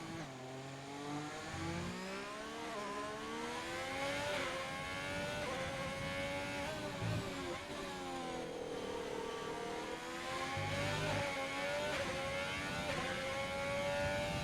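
Video game racing car engine screaming through gear changes on the Singapore circuit, pitch climbing and dropping repeatedly as it accelerates and brakes, steady and moderately loud with no voices.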